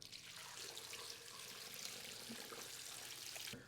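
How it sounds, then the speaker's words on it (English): Water pours steadily into a cooking pot to submerge a beef tongue, a soft continuous splashing trickle heard close up and fairly quiet, stopping abruptly at the end. "Now I'm just going to submerge this in water"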